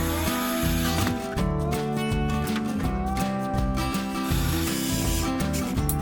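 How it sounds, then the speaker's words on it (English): A power drill drives number 6 one-inch wood screws into scrap wood, giving repeated whirring bursts with short pauses between them, close and fairly loud. "And finish with the drill."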